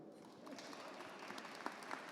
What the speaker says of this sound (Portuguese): Pode aplaudir, né?